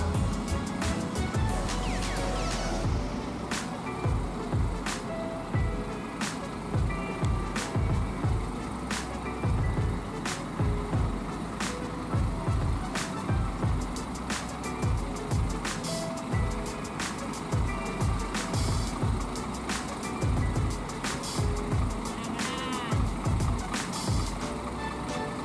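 A Putra Pelangi Jetliner bus pulls into a bus terminal for a 9 pm departure, its low engine rumble steady throughout with a regular series of sharp clicks and knocks, and no clear reversing beeps standing out.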